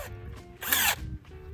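A cordless power drill fitted with a 5/16 ratchet socket, used to crank an awning, whirs up in one short, loud burst of about a third of a second, standing out against quieter surrounding noise.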